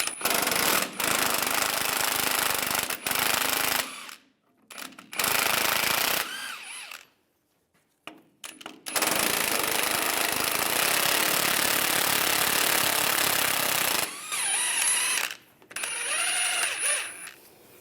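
A tool with a 15mm socket backs out two front shock bolts on a 2007-2013 Chevy Silverado 1500, heard as loud rattling impact bursts separated by short pauses, close up and without speech.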